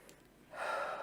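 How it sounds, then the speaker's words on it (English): A single deep breath drawn in during a calming EFT tapping routine, a soft airy rush that swells after a quiet start and holds steady to the end, close and alone. "Big deep breath"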